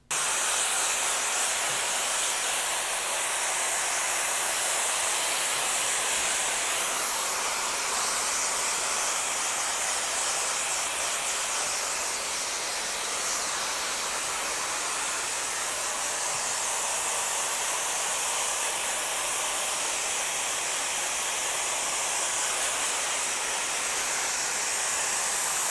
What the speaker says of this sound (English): So I'll be adding the diffuser onto my blow dryer to get more texture.